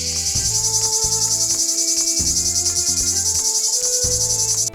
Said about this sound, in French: et, au plus chaud de l'été, quelques cigales.